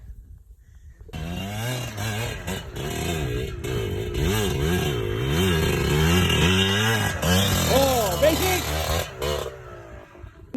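A motorcycle engine on the Pisapungan trail revs up and down in repeated rising and falling surges, loud and close, while riders shout and talk over it.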